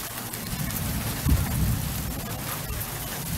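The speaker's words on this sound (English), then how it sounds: "It's starting to get pretty stormy out here." Outdoor July thunderstorm: dense rain patters steadily close by while a low thunder rumble swells briefly near the middle, with no voices.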